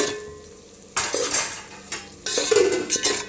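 A spoon clanks and scrapes against a metal pot while onions are mixed with chilli powder, coriander powder, garam masala and salt for aloo dum biryani, in loud bursts between quieter pauses, with a faint sizzle beneath.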